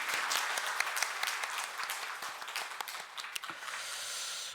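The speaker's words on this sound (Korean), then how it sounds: "하나님께 영광의 박수 올려드리겠습니다" A congregation applauds during a Sunday morning church service, a full, even burst of many hands clapping at once that gradually thins into a steady, quiet room hiss.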